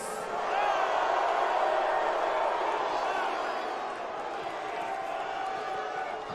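A large mixed crowd at a WrestleMania XL kickoff press conference in Las Vegas, a steady roar of booing, cheering and shouting filling the hall throughout, loud and sustained.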